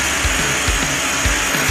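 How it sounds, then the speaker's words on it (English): Rock drill running slowly in a tunnel under construction, a steady broadband roar with a repeating low thump roughly every half second, close and continuous. "So Ralph just turned the drill on."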